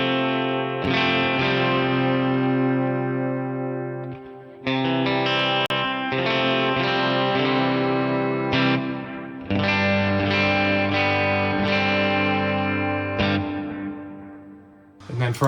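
An electric guitar played through an HX Stomp with drive, reverb and delay rings out in sustained, distorted chords with subtle echo tails, several strummed phrases separated by brief breaks, loud and alone.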